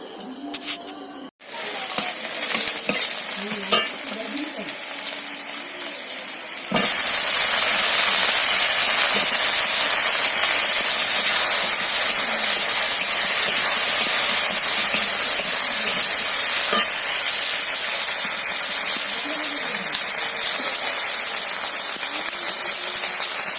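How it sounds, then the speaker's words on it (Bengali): Curry broth boiling in a pan on a home stove gives a loud, steady rush of steam and bubbling that swells after a quieter opening few seconds and holds to the end, with no one talking. "এই যে এখন ঝোল এখন ফুটছে"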